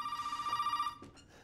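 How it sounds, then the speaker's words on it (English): A telephone rings in a horror video game, a steady repeating electronic trill up close that cuts off after about a second, followed by a couple of softer thuds and movement. "Answer the phone."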